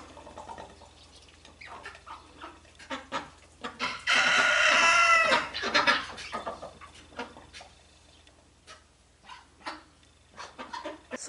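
Backyard chickens clucking with a rooster crowing loudly for about two seconds midway, amid scattered nearby clucks and rustling at moderate volume.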